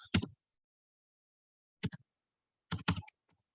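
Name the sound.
typing on a computer keyboard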